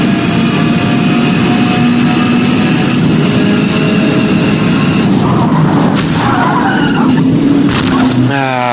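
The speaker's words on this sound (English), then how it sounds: "I don't know why I heard tyre screeching." Engine roar from a racing car in the video game Forza Motorsport, with brief tyre squeals and skidding near the end, under steady loud motor drone.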